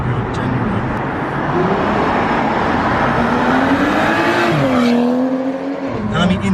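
A remapped 390 bhp BMW 135i M from 2010, engine and exhaust droning loud and close as revs climb and fall with a gear change, under a passenger's voice.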